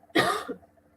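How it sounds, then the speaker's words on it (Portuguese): A single sharp cough close by, followed by a brief softer throat sound, then quiet. "por estar tossindo do nada"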